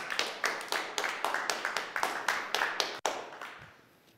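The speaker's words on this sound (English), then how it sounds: "Can we just give her a round of applause?" A church audience claps, heard as a steady run of distinct, evenly spaced claps at close range that ends in a sharp final clap and then fades.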